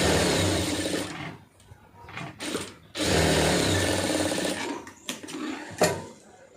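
A sewing machine stitches the neck piece of a plain blouse, loud close whirring runs in bursts broken by short pauses and a few clicks, with no voices.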